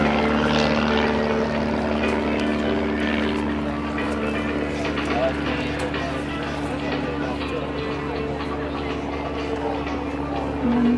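An aerobatic propeller airplane drones steadily and loudly through a hammerhead turn at the 2010 New Garden Airshow, the engine note holding constant for the whole stretch beneath continuous talk.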